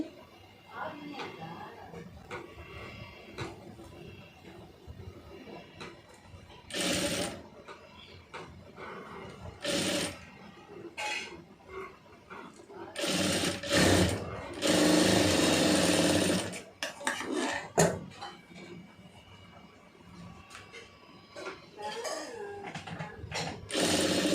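Sewing machine stitching a saree-border puff sleeve on thin, ironed fabric, running in several bursts of rapid mechanical whirring separated by pauses, with someone talking throughout.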